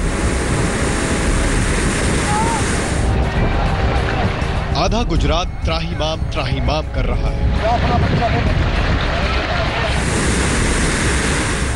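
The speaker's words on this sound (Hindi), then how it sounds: "पानी की दहाड़ खौफ पैदा कर रही है।" Swollen floodwater rushes and roars over a dam during heavy flooding in Gujarat, a steady, loud, broadband rush that never lets up, with someone speaking over it partway through.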